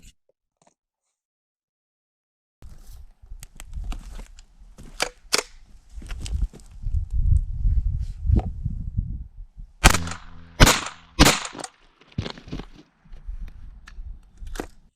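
Homemade accelerator firing 36-grain lead pellets at about 1200 feet per second into a target, a string of sharp cracking snaps and crunchy impacts, several close together, loud and near with no talk.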